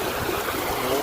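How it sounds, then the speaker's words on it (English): Floodwater runs steadily beneath a small bridge outdoors, a continuous close rushing trickle with no breaks. "Oh, the water goes somewhere under here."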